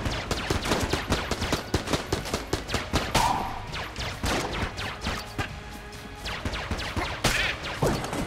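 Sniper fire rings out in the game Enter the Gungeon: a rapid, dense string of sharp gunshots mixed with smashing impacts, loud and close, running steadily throughout.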